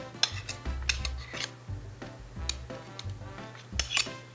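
Metal spoon scraping and clinking against another spoon while a quenelle is shaped, giving light irregular taps and soft scrapes over a low background hum; close and fairly quiet.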